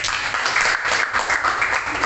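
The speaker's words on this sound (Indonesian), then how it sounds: "Oke, semangat dulu kita. Tepuk tangan tuh." A classroom of young pupils gives brief, energetic applause, a dense patter of clapping hands close by.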